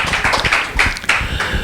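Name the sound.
audience applause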